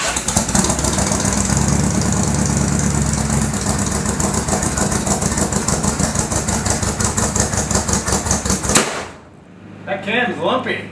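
A 1965 AMC Marlin engine fitted with a Competition Cams camshaft idles with a loud, lumpy, uneven lope for about nine seconds, then cuts off abruptly, leaving quiet background with brief voices.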